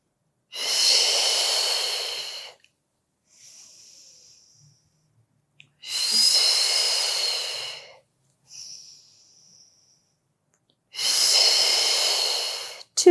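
Three long, loud breaths taken during a beginner Pilates posture exercise, each lasting about two seconds, with faint softer breathing in the gaps and no talking.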